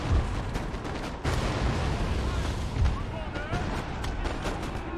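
Artillery cannons in a Napoleonic battle of the strategy game Napoleon: Total War, booming in a dense, continuous barrage with heavy low rumble and a few sharper blasts over a noisy battlefield.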